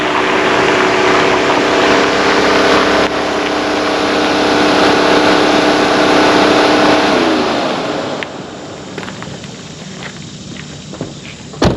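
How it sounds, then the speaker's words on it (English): A 1990 Mercedes W124 on fresh coilovers driving on a test drive, with a steady engine drone and road noise for about eight seconds, then the car dies down to a quieter idle with light knocks and rustles. "Just got back from the test drive."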